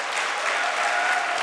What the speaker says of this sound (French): Alors, on peut vraiment vous applaudir